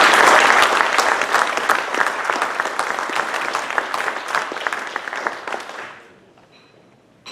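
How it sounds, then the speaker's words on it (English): Rotary club audience at an evening meeting claps steadily and warmly for several seconds, a dense indoor round of applause that thins and fades out near the end. "please give them a round of applause for helping"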